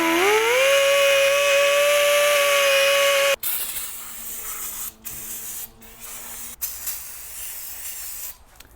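An air-powered die grinder running steady and loud for about three seconds, then cutting out, followed by rougher intermittent hissing and whirring from pneumatic tools in a car brake job on a Kia Soul.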